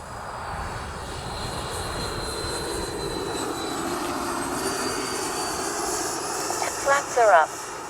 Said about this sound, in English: Show you a little bit of the slow flight